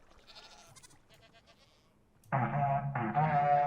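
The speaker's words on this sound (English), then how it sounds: "There is a little bit of a cooldown on all these goat horns." Minecraft goat horn sounding its "Seek" call in the video game: a loud, sustained, brassy horn blast with a slight break, following a stretch of faint soft sounds.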